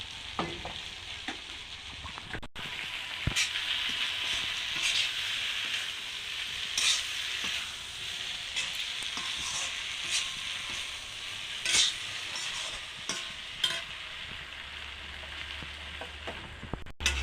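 Neem leaves and sliced eggplant fry in oil in a pan, crackling and sizzling continuously up close while a utensil stirs and scrapes them in uneven bursts; no voices.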